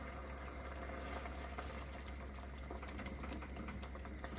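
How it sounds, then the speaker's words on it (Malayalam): Ground coconut gravy for a Kerala-style prawn curry boils in a pan, giving a steady bubbling simmer with small pops and a low hum beneath. "തേങ്ങ അരച്ചത് നന്നായിട്ട് തിളച്ചിട്ടുണ്ട്."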